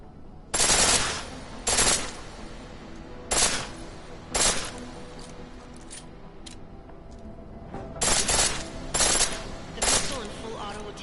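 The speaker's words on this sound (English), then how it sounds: "The pistol in full auto will take down targets fast, but it'll burn through your ammo." Pistol fired in full-auto bursts in the video game Deus Ex: Mankind Divided, sharp rattling volleys in several short separate bursts with quiet gaps, close and loud.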